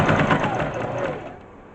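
A sewing machine stitches through plush dog fabric, its rapid mechanical chatter running steadily and fairly loud, then easing off toward the end.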